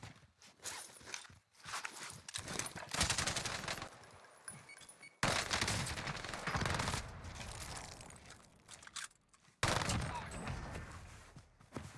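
Rapid bursts of gunfire in a battle royale video game, loud dense volleys with brief gaps and abrupt cuts, heard alone without talk.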